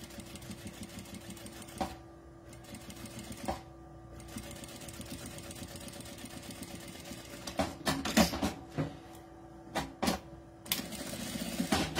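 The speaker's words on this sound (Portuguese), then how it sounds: "Vou costurar, fazer uma costurinha de pesponto em toda a volta" A sewing machine topstitches all the way around a fabric edge, running in a steady close whirr broken by short pauses and quick bursts of stitching, with no talk over it.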